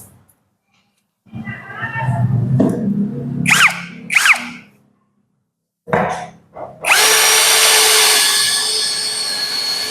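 A Lucid LX-60 cordless drill with a lubricated bit whirs in short bursts while boring, then runs steadily and loud near the end; a low rumble and brief squeals come in between.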